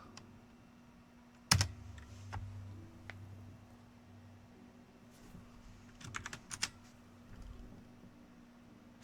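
Computer keys are struck quietly and close by in a quiet room: one sharp louder clack, then scattered light taps and a brief flurry of quick keystrokes toward the end.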